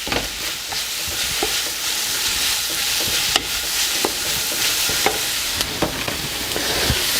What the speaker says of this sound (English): we don't want this drowning in oil, but we want our stuff frying.